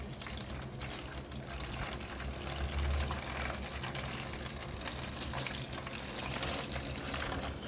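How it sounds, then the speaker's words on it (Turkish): Salty brine for pickling grape leaves is poured into a jerrycan, making a steady, continuous splashing rush of liquid that stays fairly even throughout, with no voices. "İleğinin içinde gördüğünüz suyu da bidonumuza döküyoruz"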